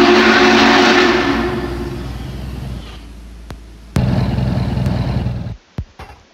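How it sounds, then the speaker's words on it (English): Denver & Rio Grande Western steam locomotive number 14 departs. The loud, broadband chuffing and hissing fades over a few seconds, then a renewed burst of working exhaust follows and is cut short by sharp knocks. "Engine 14 whistles off and gets a running start."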